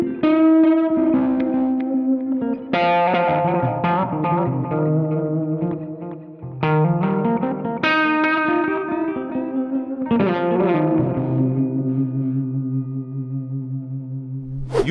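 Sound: Fjord Fuzz Loke pedal unsynchronized tape echo effect

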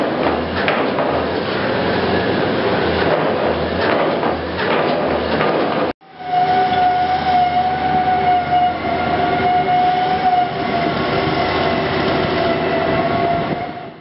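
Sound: secant pile wall construction, track-mounted drill rigs and concrete pumps

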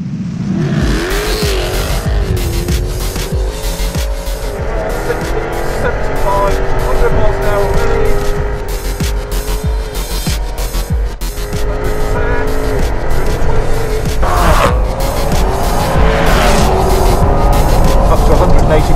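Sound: Jaguar car accelerating for high-speed parachute test

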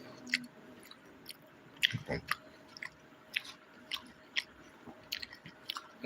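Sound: chewing puttu with banana and papadam

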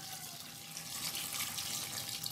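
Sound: pouring water onto raw peanuts for boiling

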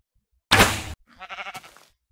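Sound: sheep bleating in video game Minecraft

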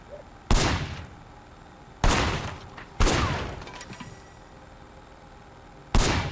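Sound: gunfire at a firing position in the video game Sleeping Dogs

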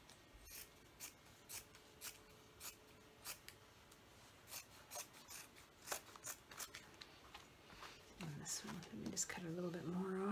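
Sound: scissors cutting a denim apron piece

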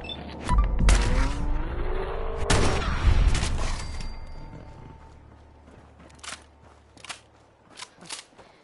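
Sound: gunfire from raiders in the video game Fallout 4

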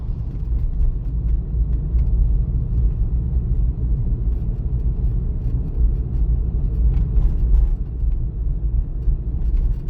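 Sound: car driving on driving exam route

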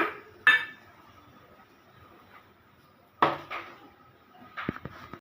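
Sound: wok placed on gas stove

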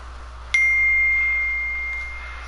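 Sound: phone notification ding

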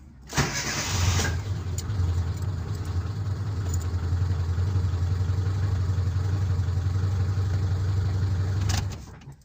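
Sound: ZAZ 1103 car engine starting with starter motor

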